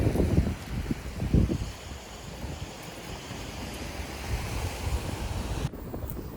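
Strong wind gusting across a sandy beach at Digha, with steady broadband rushing and blowing noise and surf-like roar throughout, louder buffets near the start, then an abrupt change near the end.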